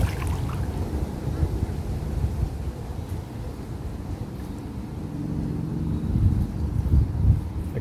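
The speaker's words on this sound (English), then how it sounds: "can still hear the traffic on the motorway." Low, steady broadband rumble of distant motorway traffic heard from out on a creek, continuous throughout, with wind and water-like noise mixed in and slight swells near the end.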